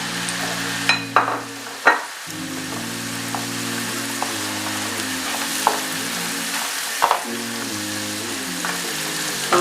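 Onion sizzles steadily in a pan with garam masala, black pepper and salt, a continuous close frying hiss with a few sharp clinks of a utensil near the start and scattered light taps throughout.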